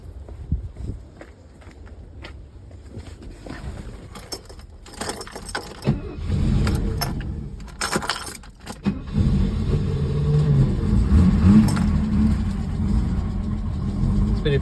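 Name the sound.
1968 Mercedes-Benz 230 engine starting and running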